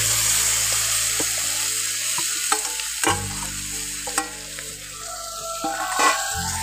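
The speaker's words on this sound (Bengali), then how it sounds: "আলু সিদ্ধগুলো দিয়ে একটু ভালো করে ভেজে নিচ্ছি" Boiled potatoes frying in a pan with turmeric powder for singara filling, a close steady sizzle broken by several distinct scraping stirs of a spatula against the pan.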